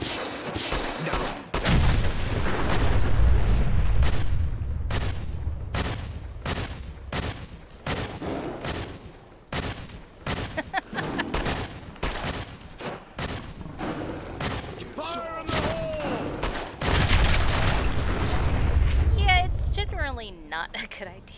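Grenade blasts and rapid gunfire from a Fallout: New Vegas companion mod, with Joshua Graham among the companions: dense bursts of shots and booming explosions crowd together throughout, with voices heard in between.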